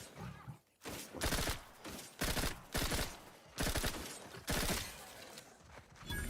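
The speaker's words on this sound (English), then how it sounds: "Time for the SMG." A submachine gun fires in the video game The Outer Worlds 2, ripping out five or six rapid bursts in quick succession, each short and loud, with brief gaps between them.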